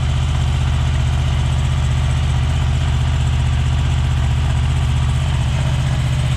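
A Honda VFR800 VTEC V4 motorcycle on standard exhausts idles steadily, a low, even engine burble holding constant and close throughout with no revving.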